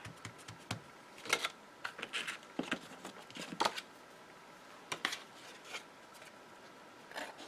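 Scissors snip a paper spooky tree cutout for a pop-up Halloween card, producing quiet, irregular crisp clicks and rustles spaced across the stretch.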